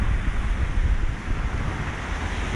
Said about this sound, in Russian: Посмотрите, какое у него бурное течение.